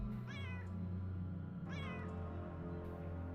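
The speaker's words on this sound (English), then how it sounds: "Oh yeah, there's a cat here. Meow." A cat in the video game UnderRail meows twice, clear and close, each call a short rising-and-falling mew about a second apart, over a steady low game background hum.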